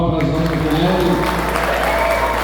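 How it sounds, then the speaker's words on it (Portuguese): A church congregation claps loudly and continuously during a Sunday service, a dense wash of applause with voices mixed in. "Uma salva de palmas para as nossas mulheres."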